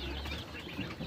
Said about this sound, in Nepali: सबै कुखुरा हातमा आउने बानी भएका छन्, लडे पनि भाग्दैनन्।